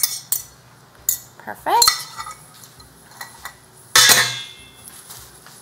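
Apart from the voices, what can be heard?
scrambled eggs thrown into a cooking pot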